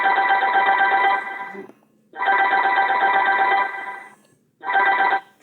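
A telephone ringtone for an incoming call sounds in three loud, close bursts with short silent gaps between them. No voices are heard.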